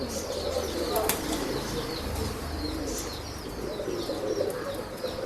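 A male Roshan breeding pigeon released at a pigeon sales yard in Bangalore, wings flapping in quick bursts close by, with faint cooing and chirps from other birds behind.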